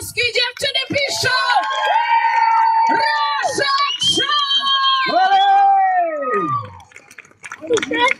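A concert crowd of girls at an outdoor industrial-heritage festival in Ruda Śląska screams, shouts and cheers in high, wavering bursts that rise and fall, loud and close, with scattered whoops.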